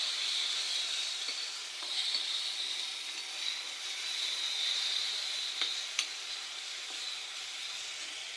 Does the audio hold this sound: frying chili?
yes